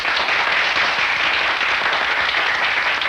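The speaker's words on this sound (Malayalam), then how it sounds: "എല്ലാവരും ഒന്ന് കൈയടിച്ച്." A crowd applauding at the opening of a volunteer labour festival, dense steady clapping from many hands at close range, sustained evenly throughout.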